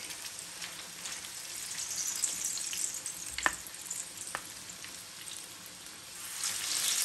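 Fish pieces fry in a deep fry pan of hot oil, a soft, steady hiss and fine crackle with a couple of sharp clicks midway, fairly quiet and with no talking.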